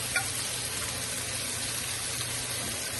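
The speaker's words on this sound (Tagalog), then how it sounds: "gigisa na tayo ng ating bawang, sibuyas" Ginger, onion and tomato sauté in hot oil for red snapper sinigang, a steady, even sizzle frying close by without pause, with a faint light tap near the start.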